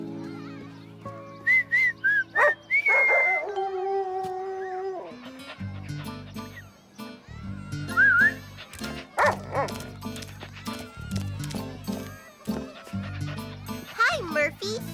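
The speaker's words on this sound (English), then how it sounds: "you whistled and he came." Whistling calls a dog in a children's cartoon, with short rising whistle tones answered by repeated barks and yips, followed by cheerful spoken dialogue and background music.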